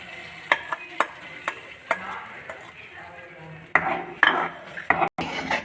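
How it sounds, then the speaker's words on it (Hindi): A spoon stirs beaten egg masala in a pan, tapping and scraping in irregular sharp clinks over a faint sizzle, growing busier toward the end, with no voices. "और अब हम इसे अच्छी तरीके से चम्मच को हिलाते रहेंगे मुसलसल"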